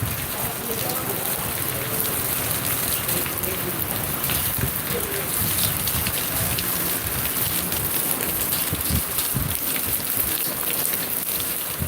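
Heavy rain pours down in Zahirabad, a steady, dense hiss of drops drumming on surfaces, loud and unbroken throughout with a faint voice murmuring underneath.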